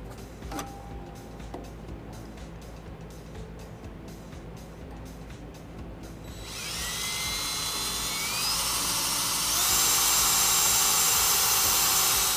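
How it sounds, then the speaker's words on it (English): A drill whines steadily, rising into a loud, high-pitched grinding as the bit bores a pilot hole through the metal of a 2017 Ram 1500 for a front-mount trailer hitch, continuous and close. "Now we have our pilot hole drilled."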